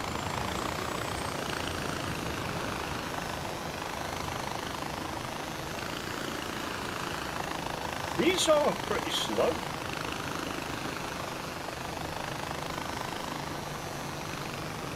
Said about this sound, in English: Let's go by a chopper.